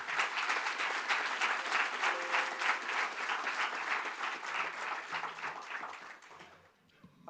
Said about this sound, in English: ladies and gentlemen, please, a big applause to Vice President Margrethe Vestager